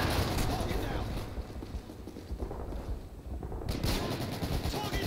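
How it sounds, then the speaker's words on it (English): Rapid bursts of automatic gunfire and explosions from a Call of Duty: Modern Warfare 3 team deathmatch, dense and continuous throughout with brief lulls, loud and close over a busy battle mix. "Where the fuck is the gunfire going off?"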